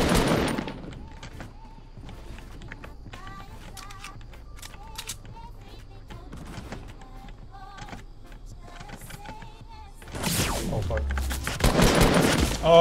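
Video game gunfire as a player faces an opponent armed with a shotgun: scattered sharp shots and clicks, then heavy blasts near the end, loud and close, with players talking over it.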